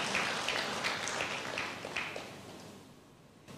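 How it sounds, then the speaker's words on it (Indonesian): Congregation applause in a church service, a broad wash of clapping that starts fairly loud and gradually fades over a few seconds, heard at a distance with no talk over it. "Berikan tepuk tangan yang meriah buat Tuhan"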